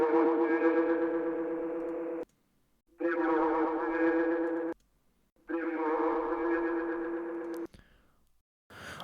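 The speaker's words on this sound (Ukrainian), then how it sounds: "І зверху ще й реверберації, щоб віддалити. Е, вмикатиму ефекти по черзі." A processed voice phrase repeats three times with pauses between, each pass sounding more echoey and distant as reverb effects are switched on one by one.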